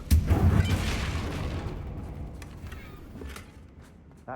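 A Confringo blasting spell in Hogwarts Legacy strikes a bridge, setting off a loud, deep boom at the start that rumbles and slowly fades over several seconds, with faint debris pops trailing after.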